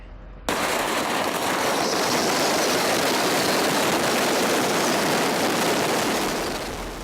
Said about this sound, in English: those fireworks started to explode, or rather ignite, and they shot up out from the fire